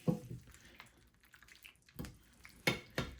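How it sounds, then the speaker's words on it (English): Stirring beef burgundy stew in a pot brings soft wet sloshing and a few clinks of a spoon against the pot, close and quiet, in irregular bursts. "I'm just going to stir a little bit just to kind of get them covered in the sauce."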